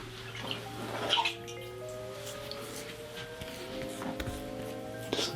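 Tap water running into a basin during a straight razor shave with a Feather Artist Japanese cut throat razor, a steady close splashing stream with light drips and clinks, no talking.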